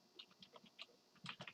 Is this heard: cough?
no